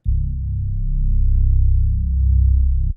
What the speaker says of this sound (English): Next up, I grabbed this sub bass one shot from the Atlanta Culture 2 drum kit.